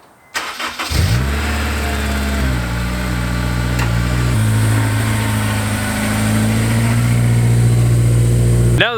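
A rebuilt-shifter Honda car's engine starts with a brief crank, then settles into a steady, close, loud idle with mild revving and a continuous low rumble.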